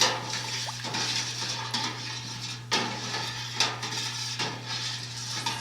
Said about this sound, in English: Stirring that together, making sure the cream stays stirred in, and making sure the citric acid is mixed well.